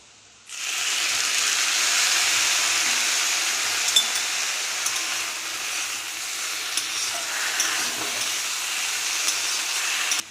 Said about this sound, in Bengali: এবার আমি দেবো দেখো সর্ষে আর সেই কাঁচা লঙ্কা বাটাটা